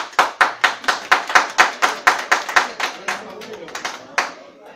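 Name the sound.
applause in a city council session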